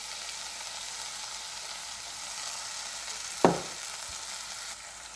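Pasta sauce with tomato ketchup and fresh basil frying in a pan, a low steady sizzle with one sharp clack of a utensil partway through, faint and close, no voices.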